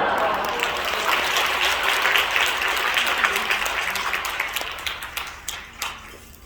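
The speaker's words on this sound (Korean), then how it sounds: "할렐루야로 또 박수로 크게 환영하겠습니다." Congregation applause welcoming a pastor to the pulpit at a Korean church thanksgiving service, a sustained wash of clapping that gradually thins into scattered individual claps and fades out.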